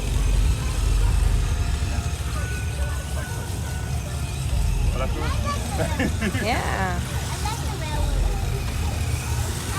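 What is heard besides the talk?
car engines at a night car show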